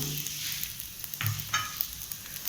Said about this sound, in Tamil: இப்போ எண்ணெய் காஞ்சிருச்சு. பெரிய வெங்காயம்,